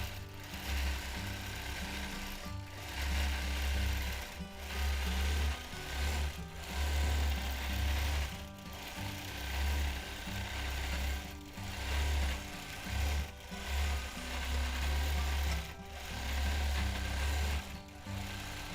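A home sewing machine free-motion quilts a paisley design, giving a rhythmic mechanical whir and needle clatter in bursts separated by short pauses, moderately quiet and heard alone.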